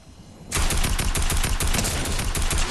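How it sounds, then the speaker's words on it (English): Sudden burst of gunfire in Fortnite: after a quiet start, rapid automatic shots crackle loud and dense for the rest of the clip, nearby and sustained. "Oh, where are they shooting from?"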